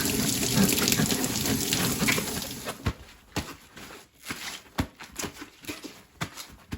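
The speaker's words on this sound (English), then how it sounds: "I'm just going to take rinse off the top here." A cabbage is rinsed under a running kitchen tap, first a steady rushing stream, then irregular splashes and patters as the water breaks over the leaves, close by with no talking.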